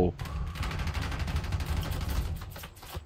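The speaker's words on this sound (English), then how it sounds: "Dude has like ginormous cannons." Rapid, heavy aircraft cannon fire from a later-model fighter in the War Thunder combat game, a dense sustained burst of booming shots with a faint voice underneath.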